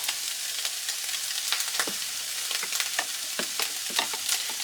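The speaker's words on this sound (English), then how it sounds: "I'm just stirring it around inside my measuring cup real well" A spoon stirs a slurry of cornstarch and beef broth in a measuring cup, giving quick repeated clinks and scrapes over a steady hiss, likely from something cooking nearby.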